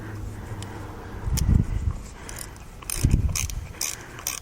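A nut is tightened on a Wilo TR50 pump during seal replacement, giving two short bursts of close, quiet ratcheting and metallic turning, separated by a brief pause.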